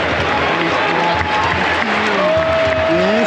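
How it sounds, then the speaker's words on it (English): Cricket crowd at the MCG during the India v Australia Boxing Day Test roars and applauds in a dense, sustained wash, with a voice talking over the cheering. "Yes, the crowd gets excited."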